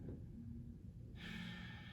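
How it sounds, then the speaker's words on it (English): One slow, deep breath taken during a yin yoga stretch, a soft, close inhale followed by a breathy, hissing exhale in a quiet room. "Taking some deep breaths."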